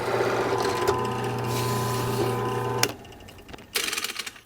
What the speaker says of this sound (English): let's move over here to the drill press and go ahead and cut these recesses in